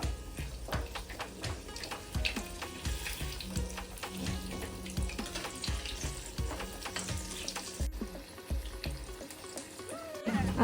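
Mung dal vadas fry in hot oil in Aagri style, with a continuous bubbling sizzle and intermittent clinks and scrapes as they are flipped, close and fairly soft.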